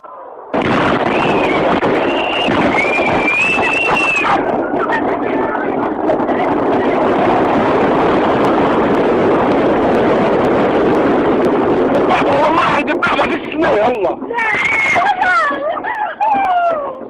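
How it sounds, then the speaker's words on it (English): A NATO cluster bomb munition explodes over a civilian-populated area, producing a sustained loud, dense roar and rumble with crackling bursts, while voices speak over it. "a NATO cluster bomb munition hits an area densely populated by civilians"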